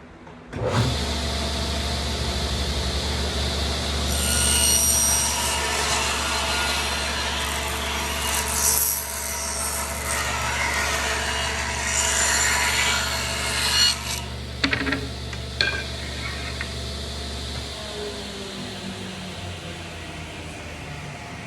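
Table saw making a first shallow pass cut through wood, the motor humming steadily while the blade rasps loudly through the board for about thirteen seconds, then winds down with a few clunks.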